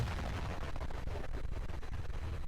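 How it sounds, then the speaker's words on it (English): A loud explosion in the shoot-'em-up video game Strania: The Stella Machina, a dense, clipped roar of blasts and rumble that fills the whole stretch without a break. "Even the explosion, like, clips the audio."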